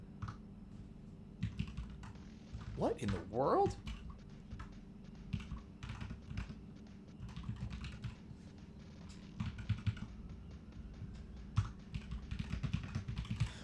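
Computer keyboard keys clatter in quick uneven bursts throughout, close and fairly loud, with a brief voiced exclamation partway through.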